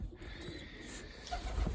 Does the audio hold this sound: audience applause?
no